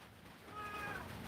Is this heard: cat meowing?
yes